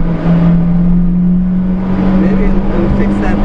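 Engine of a JDM mini-truck rumbles steadily while driving, a loud, close, low drone with a constant pitch and no clear revving. Wind and road noise sit under it.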